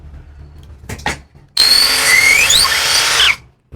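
A KYOAL KY6065 drill bores a 13 mm hole at speed 1. A few soft knocks come first, then a loud, close grinding whine with shifting pitch runs for nearly two seconds and cuts off abruptly.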